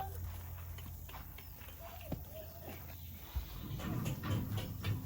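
Donkeys' hooves clopping as they step into a horse trailer, a few soft hollow footfalls at moderate distance under a quiet background with a louder scuffle toward the end.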